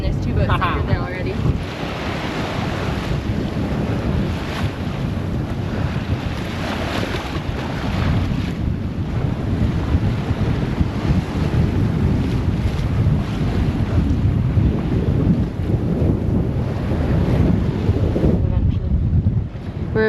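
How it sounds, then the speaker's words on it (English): Strong wind and breaking waves in a squall while a sailboat approaches a low island, constant buffeting gusts hitting the microphone over the rush of water, loud and unbroken for the whole stretch. "We're approaching low island in a squall, of course."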